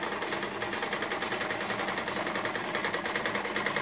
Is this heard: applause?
no